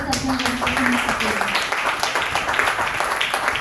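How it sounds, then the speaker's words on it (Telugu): A church congregation claps together in steady, dense applause, loud and sustained throughout with a voice briefly heard over it at the start. "క్లాప్స్ కొట్టండి, దేవుని क्लैप्स మహిమపరచండి."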